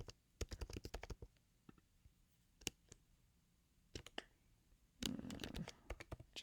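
Computer keyboard typing nearby, faint irregular clusters of clicky keystrokes separated by short pauses, ending in a denser flurry of taps, with no talk.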